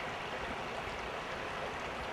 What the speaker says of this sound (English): Listening to the birds chirp and the water rush down the river.